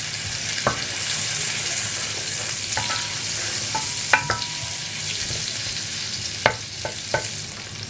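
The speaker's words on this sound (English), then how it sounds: "So then I'm gonna add some oil." Oil frying and sizzling in a pot while jollof rice is cooked, a steady broadband hiss with occasional stirring clicks and scrapes, fairly close and alone without talk.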